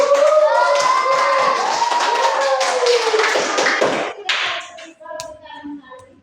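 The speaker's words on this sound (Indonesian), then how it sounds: "Kita berikan tepuk tangan sekali lagi" Students in a classroom clap together in a lively round of applause mixed with children's voices and cheering, then the clapping thins out into a few scattered claps.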